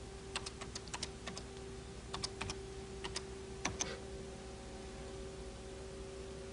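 Keys on a 1983 home computer keyboard are pressed one at a time to enter a command, giving sparse, crisp clicks in small bursts over a steady electronic hum, ending with a single heavier keystroke.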